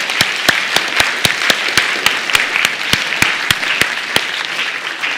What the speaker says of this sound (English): let's give our electrons a round of applause.